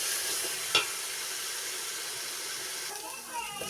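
Garlic paste frying in a pan for chicken biryani, a steady soft sizzle with an occasional scrape of a stirring utensil.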